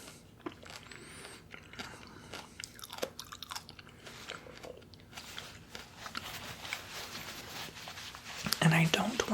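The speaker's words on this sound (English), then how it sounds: "The peel is very hard to chew." Close, whispery mouth sounds of someone chewing a hard, crunchy fruit peel, with irregular crunches and grinding bites over soft hiss, ending in louder crackly chewing.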